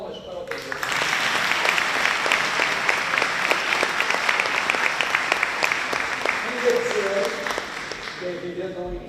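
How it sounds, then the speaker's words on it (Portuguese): Audience at an anniversary closing ceremony applauding a professor, a loud sustained burst of clapping from a crowd that fades out near the end, with a voice speaking over it. "Palmas para o professor."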